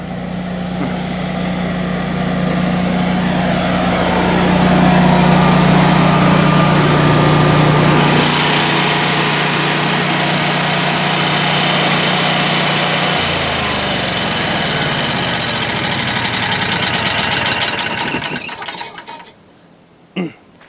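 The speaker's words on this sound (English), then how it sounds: "You can kind of hear it running right now" A Generac standby generator engine runs loudly and steadily with a rattling mechanical drone, changing pitch partway through, then winds down and stops near the end.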